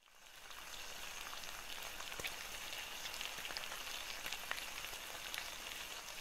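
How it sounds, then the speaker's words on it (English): Food sizzling in the cooking game Cook, Serve, Delicious! 2, a steady, hissing crackle with scattered pops and ticks that holds at an even level throughout, no voices. "nothing but the sound of sizzling food in the background"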